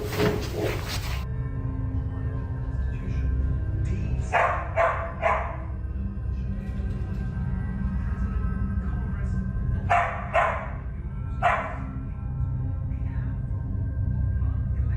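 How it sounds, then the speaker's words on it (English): Dogs bark indoors in a house in short bursts of two or three barks, separated by pauses, loud and near over a low steady background hum, with no speech. "Dogs reacted instantly."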